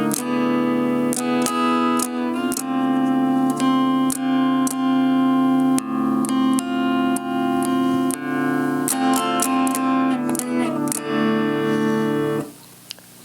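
Electric guitar strums chords with a Screamer overdrive pedal kit bypassed, sounding fairly clean; sustained chords ring under sharp, irregular strum attacks, close and steady, then cut off near the end.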